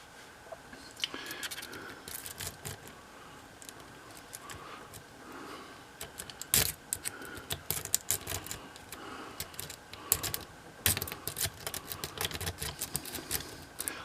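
Faint, irregular metallic clicks and scratches as a lock cylinder is picked with a pry bar tension wrench, the quiet ticking growing denser and sharper toward the end.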